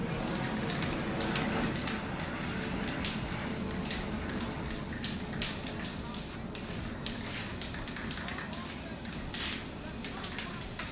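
A steady, continuous hiss of spray paint from an aerosol can, close and unbroken, painting Pandem widebody kit pieces for a BMW E36 M3, with faint background noise.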